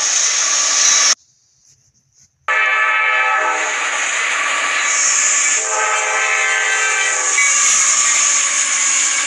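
A CSX freight train rolls past with a loud, steady roar and sustained horn tones. The sound cuts out briefly near the start, then carries on continuously with no voices.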